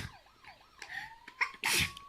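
A single sharp sneeze bursts out near the end, loud and close, after a rising and falling siren-like tone.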